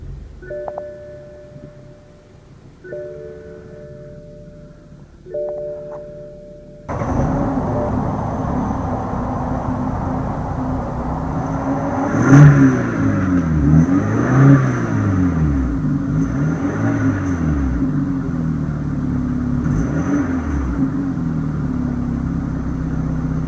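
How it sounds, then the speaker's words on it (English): A 2015 BMW 428i Gran Coupe with a 2-liter twin-turbo inline four-cylinder starts up after a quiet chime sequence, then settles into idle with several rising and falling revs, loud and close. "let's jump in the driver's seat, start it up, and see how it sounds."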